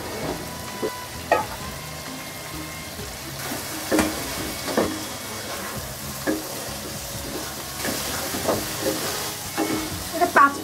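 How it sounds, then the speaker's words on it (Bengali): Beef, cabbage and potato sauté with spices in a pan, a steady close sizzle and hiss broken by repeated scraping knocks of stirring throughout. "এটা একটু কষাতেই হবে যেন আলুর ভিতরে একটু মশলাগুলো ঢুকে যায়।"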